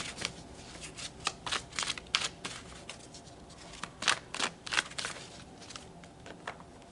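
Tarot cards riffled and shuffled by hand in a run of crisp, close papery flutters and snaps, with short pauses between bursts and no talking.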